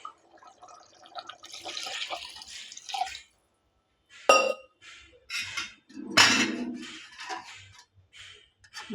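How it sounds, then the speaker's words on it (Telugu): Water is poured into a pan of fish curry already cooked with tamarind juice, chilli, salt and spices, giving splashing, trickling bursts with short pauses and a clink of the vessel, close and alone. "వాటర్ పోసుకోవాలి."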